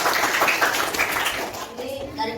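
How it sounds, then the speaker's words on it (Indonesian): A classroom of students claps hands together in a dense, lively burst that fades after about a second and a half, with children's voices mixed in. "Bisa tepuk tangan dulu"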